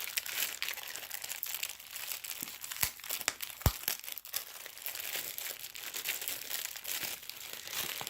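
Plastic packaging from a Wish order is handled close to the microphone, giving a steady run of crinkling and rustling with a few sharper crackles and snaps, no talking.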